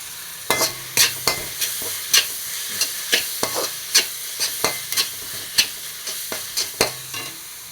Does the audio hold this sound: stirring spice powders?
yes